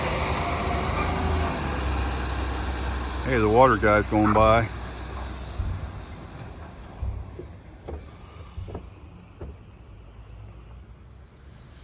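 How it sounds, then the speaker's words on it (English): An eastbound train passes on track 1 at a railroad crossing at roughly 32 to 33 miles per hour, a low rumble under a man's brief remark that fades as the cars roll by. "It's an eastbound train on track 1."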